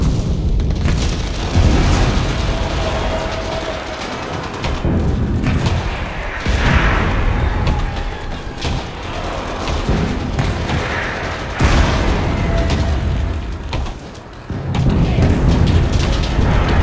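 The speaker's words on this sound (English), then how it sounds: "Artillery support! Roger that! Fire!" Artillery barrage in the video game Enlisted: repeated heavy booming explosions roll in every few seconds, loud and rumbling, with scattered gunfire crackling between the blasts.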